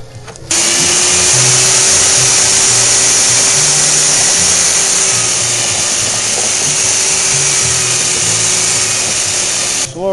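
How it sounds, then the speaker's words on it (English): A fusion mixer churns paper slurry for paper adobe walls, giving a loud, steady motor whine with a constant churning roar that runs unbroken for about ten seconds before cutting off. "This is my fusion mixer."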